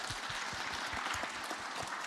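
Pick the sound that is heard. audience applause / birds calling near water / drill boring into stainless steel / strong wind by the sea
audience applause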